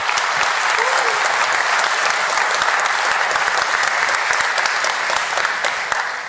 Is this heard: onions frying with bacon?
no